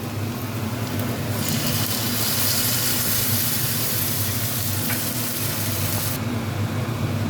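Potatoes and poppy seed paste fry in oil for a vegetarian aloo posto, giving a steady, loud sizzling hiss that swells after about a second and eases near the end over a low kitchen hum.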